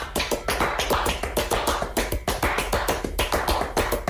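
Rapid rhythmic hand clapping from Orchestre National de Lyon performing Steve Reich's clapping piece, dense interlocking claps continuing steadily throughout, close and clear with no talk.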